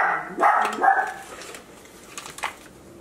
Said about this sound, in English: I apologize for the puppies barking.